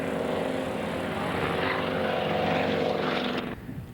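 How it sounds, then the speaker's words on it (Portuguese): A propeller aerobatic plane flown by Colonel Braga makes a fast low pass at an air show in Sorocaba, speeding up toward 250 mph. Its engine drones loud and steady throughout, then drops off sharply near the end. "E um rasante acelerando agora até 250 milhas por hora."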